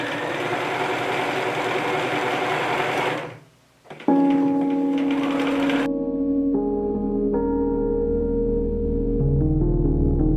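A sewing machine stitching a buttonhole on a tote bag runs at a fast, steady whir, stops briefly, then continues at a lower, slower hum with a tonal motor whine.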